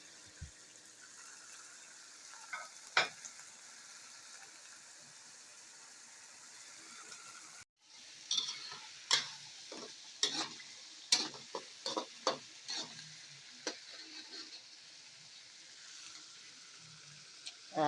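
A quiet background sizzle of aromatics, corned beef and hotdog frying in a pan, broken by sharp scraping and clinking strokes of stirring that come in bursts.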